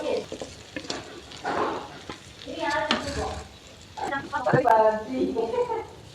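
Food sizzles and fries in a pan while it is stirred and mixed in a home kitchen, scraping and frying sounds heard close up, with someone talking over them.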